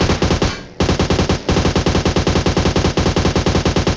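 An AUG assault rifle in a shooter video game fires rapid, loud automatic bursts, evenly spaced shots in a steady rhythm with a couple of brief gaps between strings of fire.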